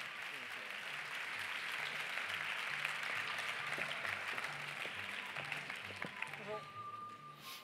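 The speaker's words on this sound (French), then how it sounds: "Laure Portier, réalisatrice, vous pouvez les applaudir, et Christian Hed, producteur." An audience applauds the jury members at the closing ceremony of a film festival, a broad, sustained wash of clapping that thins near the end as a voice begins to speak.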